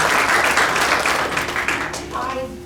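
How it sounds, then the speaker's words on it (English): Applause from an audience at a book inauguration ceremony, a loud broad wash of clapping that fades toward the end as a voice begins to speak. "Big round of applause for Brother Khaja Mohyuddin."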